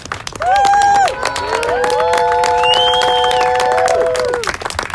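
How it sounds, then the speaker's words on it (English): Rally crowd in Washington DC cheering and applauding at a Force the Vote event, loud whistles and sustained shouting over clapping, with a long rising-and-falling tonal cheer through the middle. "Big round of applause. Big round of applause."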